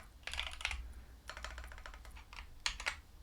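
Fingers type on a computer keyboard on an Arch Linux desktop, tapping out quick bursts of clicky keystrokes with short pauses between the clusters, close up and fairly quiet, with no voices.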